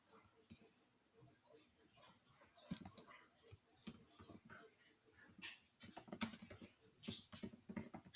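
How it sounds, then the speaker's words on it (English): Computer keyboard typing in irregular bursts of clicks and key taps, moderately close, with some faint background noise between keystrokes. "I'm just going to type right down here."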